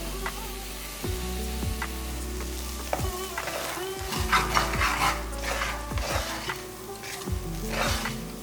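Spices and mutton masala sautéing in a pan for an egg gravy, with a steady sizzle and frying hiss broken by repeated scraping stirs of a spoon against the pan, close and continuous.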